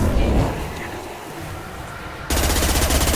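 Rapid automatic gunfire rattles loudly and continuously in a Mass Effect 2 firefight, a dense burst that breaks off and then resumes even harder; no voices are heard.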